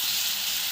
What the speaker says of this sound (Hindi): अब मैं 2 हरी मिर्चें बारीक चॉप की हुई वो डालूंगी और अच्छी तरह भूनेंगे।